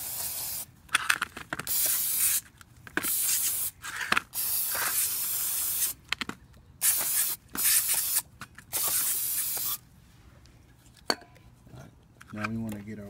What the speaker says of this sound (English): Go ahead and spray this down.